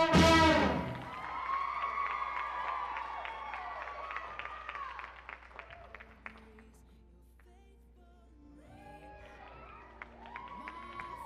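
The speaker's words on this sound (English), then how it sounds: "Another round of applause for all the routines that performed today." Audience applause and cheering from a crowd at a dance routine performance, a loud burst of clapping at the start that settles into a sustained, moderate wash of clapping and voices, with a tonal musical sound running through it.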